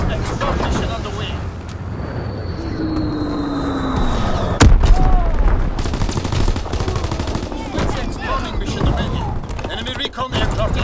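Bombs from a bombing mission in a war video game go off amid dense gunfire, with one sharp loud blast standing out among rattling shots and rumbling impacts, while voices speak over the chaos.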